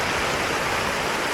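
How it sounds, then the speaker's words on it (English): A waterfall at a natural hot spring in Idaho rushes in a steady, dense roar, close and continuous with no voices. "Got the waterfalls right over here."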